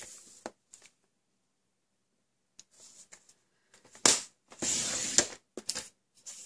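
Paper trimmer slicing cardstock for a handmade birthday card, a few faint clicks and then a brief scraping slide of the blade in the second half, with near silence between.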